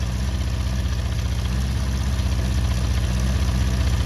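A Honda CB400 Four motorcycle engine idles steadily during carburetor adjustment, a loud, close, continuous low throb with even firing pulses and no talking.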